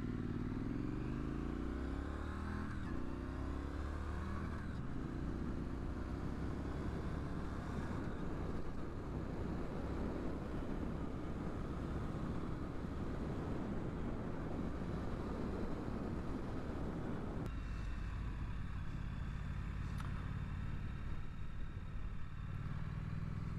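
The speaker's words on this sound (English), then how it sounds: "it's just a really fun cruiser bike." A 2019 Triumph Street Scrambler motorcycle being ridden, its engine a continuous loud rumble with wind noise, the pitch shifting as it changes speed.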